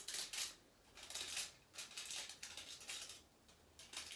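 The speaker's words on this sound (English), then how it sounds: "go ahead and cut it into strips, but don't cut it all the way to the edge" Scissors snip tinfoil into strips in a quick, faint, rhythmic series of crisp metallic cuts, about a dozen in four seconds, with no voices.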